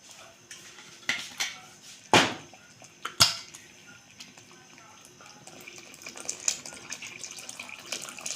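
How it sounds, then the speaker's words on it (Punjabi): Hot water is poured into a pot on a gas stove while a homemade cough and cold remedy is prepared, with a couple of sharp metallic clanks followed by a steady, building pour. "ਗਰਮ ਪਾਣੀ ਪਾਵਾਂਗੇ।"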